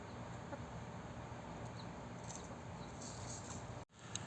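Soft clucking from chickens over a steady outdoor background, fairly faint, with a brief dropout near the end.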